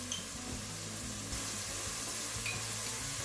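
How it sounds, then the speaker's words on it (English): A pan of chicken tehari fries with a dense, continuous close sizzle while turmeric powder is added, with a little faint scraping under the crackle. "About half a spoon I'm putting turmeric powder."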